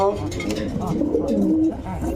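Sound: white-faced pigeons cooing

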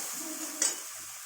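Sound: spice paste with tomato being sautéed in a pan

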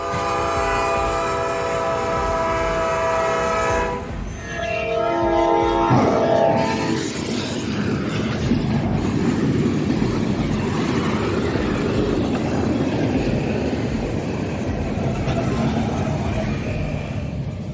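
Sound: train on railway tracks

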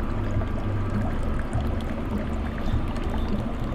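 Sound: water flowing from a bamboo spout in a Japanese garden

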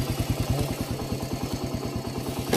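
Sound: motorcycle engine after kick-starting

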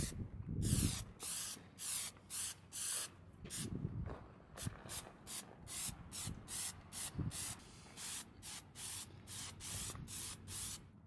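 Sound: spray painting a dust coat on a bumper bash plate

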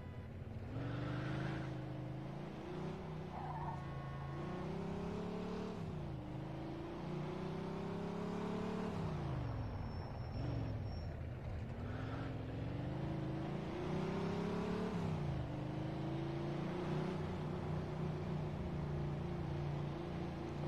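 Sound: car driving in Mafia II video game

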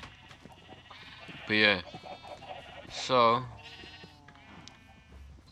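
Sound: sheep bleating in Minecraft video game

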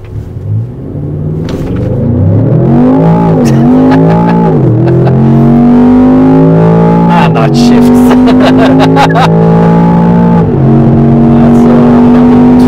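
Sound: Range Rover Sport SV launch, hard acceleration

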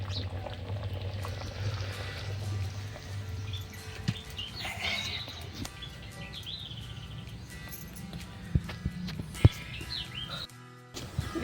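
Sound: bottle gourd kadhi boiling in a pot

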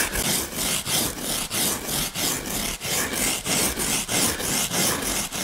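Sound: hand file carving a fish mount form

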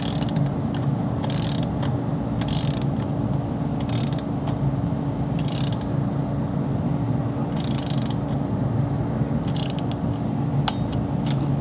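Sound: torque wrench ratcheting and clicking on Corvette LS1 bolts

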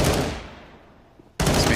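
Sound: gunshot in video game Counter-Strike: Global Offensive

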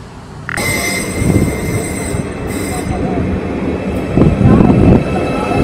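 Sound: train arriving at station with squealing wheels

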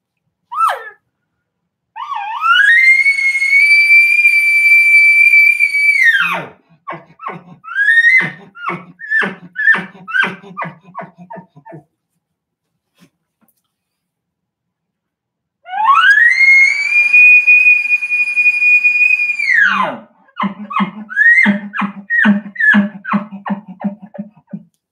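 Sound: blowing a straight elk grunt tube call

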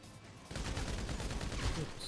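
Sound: minigun firing in a video game

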